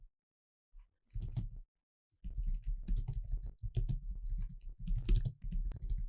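Computer keyboard keys and a mouse click in quick bursts while spreadsheet cells are selected in Microsoft 365, a brief single tap followed by steady clusters of close, crisp clicks with short pauses between.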